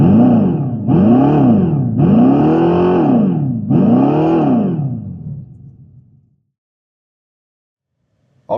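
Dodge Charger Daytona Scat Pack engine sound revved four times in a row, each a loud close rising and falling sweep, then fading to silence before a brief burst at the end.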